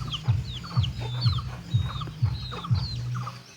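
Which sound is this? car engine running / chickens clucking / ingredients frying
chickens clucking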